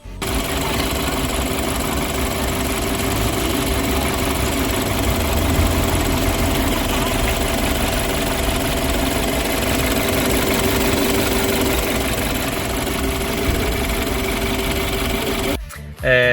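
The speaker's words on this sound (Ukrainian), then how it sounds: "Нам не дуже подобалась робота мотора. Це бензиновий двигун" A petrol car engine with an irregular running fault idles at close range, a steady rapid mechanical chatter with light knocking, continuous until a brief break near the end.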